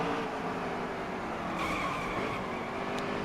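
A racing truck in a racing video game skids after riding up onto a curb, a steady engine roar with a sustained tire scrub running throughout.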